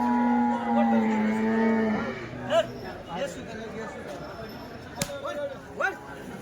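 A Holstein Friesian cow moos in a long low call at a cattle market in Dhule, followed by shorter moos and calls from nearby cattle as a person talks in the background.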